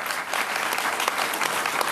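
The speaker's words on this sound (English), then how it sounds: "Big round of applause for them." Audience applause after an event host thanks the sponsors, a dense steady wash of many hands clapping at close range for about two seconds, with no voices over it.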